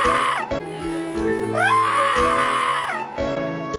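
A person imitates a tyrannosaurus cry with a loud, wavering, screeching bleat that rises in pitch midway, over steady background music.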